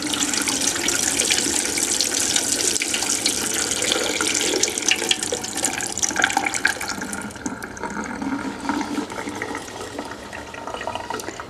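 Water is poured off sprouting seeds in a jar, a continuous splashing trickle that runs strongly at first and thins toward the end, close and alone.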